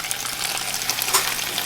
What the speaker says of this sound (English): you're going to take your taco shell, put it over here just like this. Alright, and let it cook.